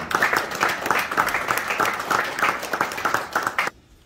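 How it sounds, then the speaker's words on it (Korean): A room full of people at a book launch event applauds, a dense patter of clapping that carries on for several seconds before cutting off abruptly. "큰 박수로 좀 부탁드리겠습니다."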